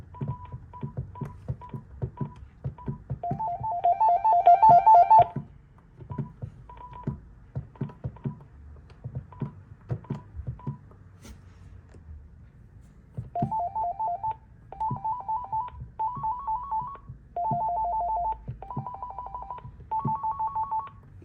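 A thrift-store telephone's ringers play in turn: short electronic tone bursts and warbling trilled rings in several pitches, separated by clicks of button presses, close and clear with no speech.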